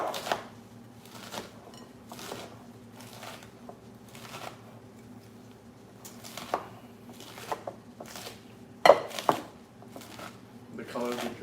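Knife chopping Caesar salad ingredients on a cutting board: a steady series of crisp, regular chops close by, with occasional louder knocks, over a low kitchen hum while people talk.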